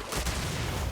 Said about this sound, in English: Awesome fireworks show.